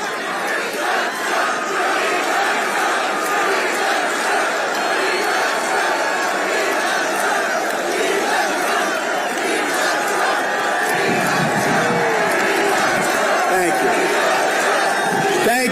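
A large political rally crowd cheers and shouts continuously, a loud, dense wall of whoops and chanting voices that swells louder toward the end.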